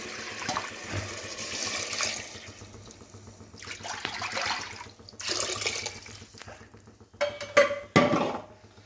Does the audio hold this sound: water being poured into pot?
yes